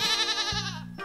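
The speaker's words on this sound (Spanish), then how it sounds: "¡Es la cabra!" A goat bleats once in a long, wavering cry, loud and close, with no talking.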